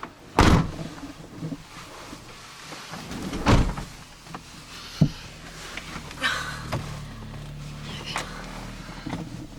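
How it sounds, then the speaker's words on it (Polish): A van door is shut with several solid thunks spread across the stretch, set against a low background hum and some faint movement sounds. "Zamykam drzwi tu."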